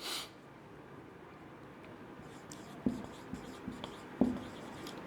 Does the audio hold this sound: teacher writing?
yes